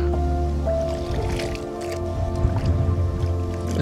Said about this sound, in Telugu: వాటర్ ఉంది ఇక్కడ మనం ఇప్పుడు మన పాత్రలని కడుక్కోవాలి.